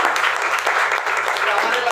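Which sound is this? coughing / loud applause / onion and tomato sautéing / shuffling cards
loud applause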